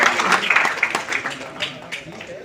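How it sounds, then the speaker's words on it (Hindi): Audience applause for a small child on stage at an award ceremony in a hotel, a steady patter of many hands clapping close by for a couple of seconds. "एक बार जोरदार तालियां हो जाए हमारे"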